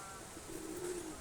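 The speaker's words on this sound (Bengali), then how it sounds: "এটা সাদা ঘুঘু।" A white dove cooing at a small private zoo, a soft low hum rising in the second half over steady background hiss.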